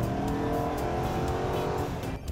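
A Chevy with a 6.2-liter small-block V8 corners hard on a lap, its engine droning loud and close with a tire squeal, then the note drops off near the end; no talking.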